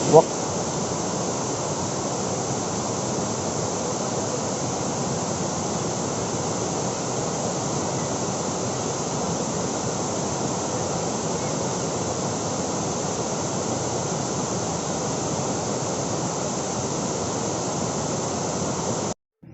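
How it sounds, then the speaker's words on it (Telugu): A loud, constant roar of rushing water from Tirathgarh waterfall near Jagdalpur, India, dense and unbroken throughout, drowning out everything else. "ఈ వాటర్ ఫాల్ నుంచి వచ్చే విపరీతమైన వాటర్ సౌండ్"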